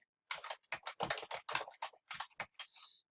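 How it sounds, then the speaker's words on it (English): Quick bursts of keystrokes on a computer keyboard, a dozen or so close, crisp clicks in an uneven rhythm, ending in a brief run of lighter taps, alone in a quiet room. "I'm going to type in line Sparkline"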